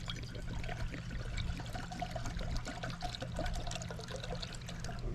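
Water pours steadily into a pot for boiling noodles at a campsite, a close, continuous trickling splash over a low background rumble with no voices.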